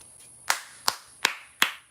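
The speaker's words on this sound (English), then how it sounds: "I'm giving loud claps today" Four loud, sharp hand claps, spaced evenly about a third of a second apart, close up and alone with no talking.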